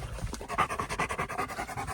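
Dogs pant rapidly and rhythmically after a run outdoors, a steady close series of quick breathy huffs that continues throughout with no talk.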